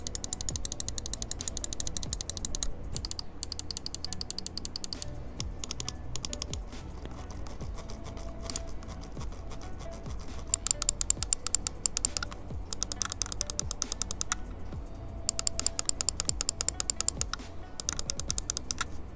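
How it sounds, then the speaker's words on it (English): Rapid bursts of crisp clicking from a Glorious Model O gaming mouse, many sharp clicks in quick runs separated by short pauses, close and clear with no talking. "Now I'm going to be giving you guys a click test and showing you guys what the sounds are on this mouse."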